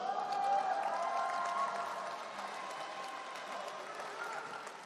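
A crowd claps at a Democratic Party leadership candidates' joint rally in Incheon, the applause sustained and even for several seconds before thinning slightly. A faint hum sits beneath it.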